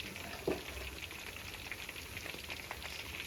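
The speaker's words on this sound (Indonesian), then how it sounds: "Goreng tempe mantap sekali." Tempe frying in hot oil gives a steady, dense sizzle with fine crackling throughout, close and even in level, with one brief louder pop near the start and no talking.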